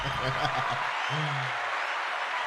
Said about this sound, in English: I'm gonna let the applause ride